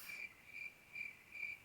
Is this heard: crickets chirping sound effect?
yes